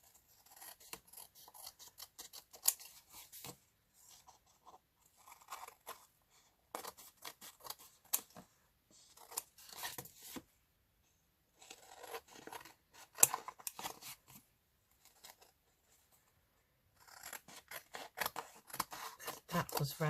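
Scissors trim around the edges of a thin stencilled paper tag: clusters of crisp, close snips come in irregular bursts separated by short quiet pauses.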